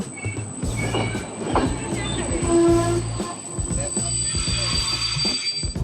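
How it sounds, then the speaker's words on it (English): Bulgarian passenger train on a slow stopping service to Sofia, heard from an open window: loud rumbling wheels, clattering rail joints and metallic squeals, with a brief voice mixed in. "Just gonna be hanging my head out the side of a Bulgarian train"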